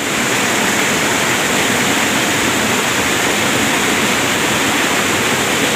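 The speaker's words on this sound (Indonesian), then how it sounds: "Air terjun ini panjang nih. Ini lebih kurang ke bawah sekitaran 50 meter." Ceracai waterfall in Keumumu Seberang, South Aceh, its water dropping about 50 meters into a pool, makes a loud, steady roar that stays constant with no pauses and no voices.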